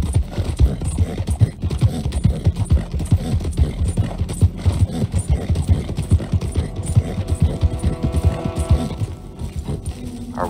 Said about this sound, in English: Damn horse just galloping.